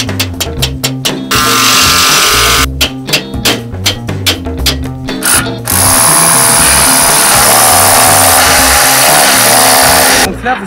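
A power drill bores holes into a family swimming pool wall during construction, with repeated loud close bursts of whining drilling broken by short pauses, then one long sustained run before a final burst.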